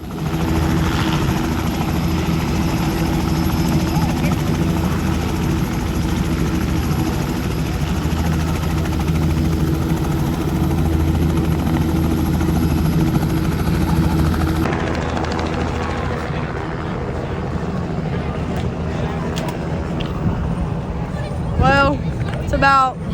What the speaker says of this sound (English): that helicopter over there made the wind blow a little bit